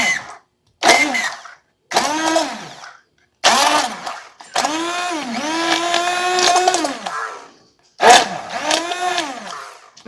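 An immersion blender whirs close by in several separate bursts, its motor pitch dipping and climbing as it chops through strawberries.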